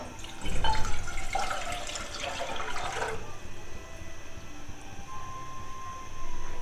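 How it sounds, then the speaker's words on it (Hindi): Sandalwood-infused water pours into a cooking pot while making Rooh Afza sharbat, a brief gushing splash lasting about three seconds before it fades to a quiet room hum. "अभी इसमें हम शामिल करेंगे जो हमने संदल का पानी लिया था। अभी हम इसको भी इस बर्तन में डाल लेंगे।"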